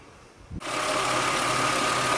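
A Jaguar X-Type engine, running again after a misfire repair and fresh spark plugs, starts up after a brief quiet moment and settles into a steady, even idle with a continuous mid-range hum, close and fairly loud.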